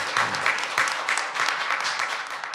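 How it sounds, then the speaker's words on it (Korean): Audience applause at a panel discussion forum, a steady wash of many hands clapping throughout, moderately loud and without voices on top. "박수 좀 부탁드립니다"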